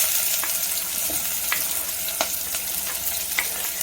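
Chopped onion tipped into hot oil with whole spices, a continuous frying sizzle with light stirring scrapes and occasional sharp crackles, close and alone without talk.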